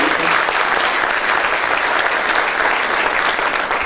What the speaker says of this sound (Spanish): Un aplauso, por favor, para la Universidad Nacional Siglo XX